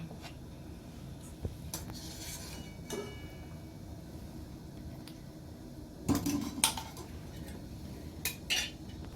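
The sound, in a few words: lifting puli pitha dumplings into a bowl of cold water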